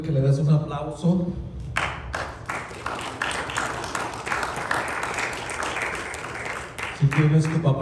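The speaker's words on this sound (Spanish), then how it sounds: "te pido que le des un aplauso" A church audience breaks into applause, a crowd of claps rising after a voice and carrying on steadily for several seconds before his speech resumes over the tail.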